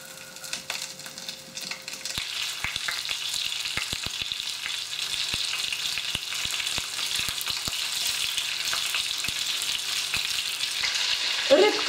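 Breaded tench fillets sizzle and crackle steadily in a hot pan on a gas hob, a dense continuous frying hiss dotted with small pops and faint clicks, close and fairly loud, with no talking.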